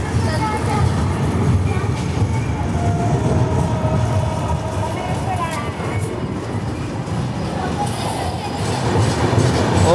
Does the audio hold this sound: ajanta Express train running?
yes